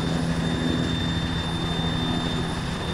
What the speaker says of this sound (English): I can't even see the fucking helicopter